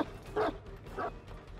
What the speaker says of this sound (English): I'm gonna try to see how this dog works over here.